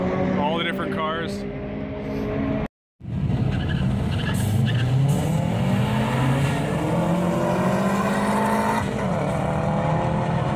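Late-night drag racing at PIR with Subaru and Mitsubishi cars: tires squeal and engines roar in a continuous loud wash, with a voice talking nearby and a brief moment of silence early on.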